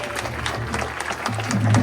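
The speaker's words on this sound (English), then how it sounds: "I just want to introduce the band one last time for you guys, preferably to your rapturous applause" A jazz concert audience applauds the band with moderate, steady clapping, while a voice and low tones come through beneath it toward the end.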